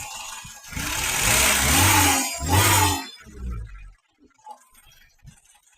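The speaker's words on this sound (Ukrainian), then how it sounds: "Так, моторчик работает." A VAZ car engine runs loudly for about three seconds, rising and dipping, then cuts out, leaving quiet scattered clicks and rattles.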